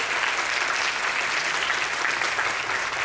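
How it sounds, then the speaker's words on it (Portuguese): An audience at a public debate on school peace culture gives sustained, even applause as the panel is seated, a dense wash of many hands clapping loudly throughout. "Uma salva de palmas para a composição dessa mesa."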